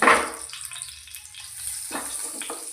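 Cinnamon, cardamom and cloves fry in a pan for a paneer masala, opening with a loud, brief sizzling burst that drops to a quieter crackle, then a few softer flare-ups.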